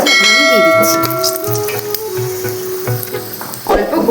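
Two whole dried red chillies dropped into hot oil left from frying potatoes and teasel gourd, sizzling and crackling loudly up close with metallic clinks of a utensil against the pan.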